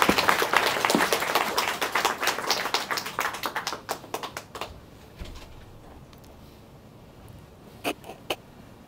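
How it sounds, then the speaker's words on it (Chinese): A lecture-hall audience applauds to welcome an academician giving a university talk, dense clapping for about five seconds that thins out into a few scattered claps and fades. "热烈的掌声欢迎我们的侯院士"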